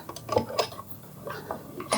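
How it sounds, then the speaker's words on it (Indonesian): A Hasston 5-inch bench vise is pushed in and turned, giving close, light metallic clicks and ticks in an uneven series with no talk over them. "Masukkan ragum biasanya gini, sambil diputar, dia akan masuk."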